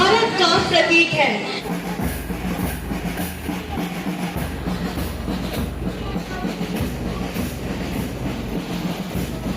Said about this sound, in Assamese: अमृत भारत एक्सप्रेस अपनी पहली ऐतिहासिक यात्रा पर हमारे स्टेशन पर आ पहुंची है